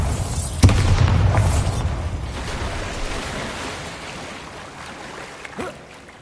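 A Bombarda spell explosion in Hogwarts Legacy goes off as a single deep boom with a rumbling tail, followed by a lower, fading roar and a small second burst near the end.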